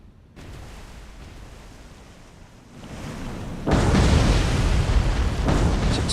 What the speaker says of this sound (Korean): 맥도걸에서 발사된 어뢰 5발이 명중하여 폭발합니다